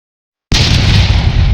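A supernova explosion sound effect: after half a second of silence, a sudden loud, dense blast bursts in and sustains as a wide roaring rumble to the end, alone with no voices.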